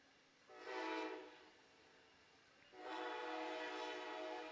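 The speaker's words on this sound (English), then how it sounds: "And we've got our first train of the game." A passing train near a ballfield during a game sounds its horn in two sustained blasts, the second longer than the first, heard faintly from a distance over low background noise.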